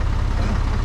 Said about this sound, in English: Can you turn off the tractor?